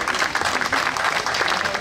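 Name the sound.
audience applause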